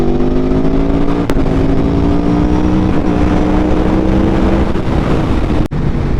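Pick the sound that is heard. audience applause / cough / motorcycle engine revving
motorcycle engine revving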